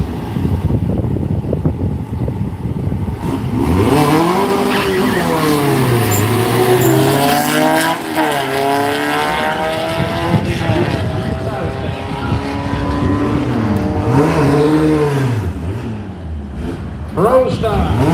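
Volkswagen drag cars, including an orange machine and a little 1984 GTI, roar loudly at a drag strip, engines rising and falling in pitch as they rev and launch, under constant announcer commentary.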